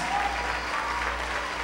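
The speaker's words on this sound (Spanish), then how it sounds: "Y creo que le regalemos fuerte ese aplauso." An audience applauds an orchestra at an evening symphonic concert, a steady, dense burst of clapping with a faint whistle or cheer in the mix.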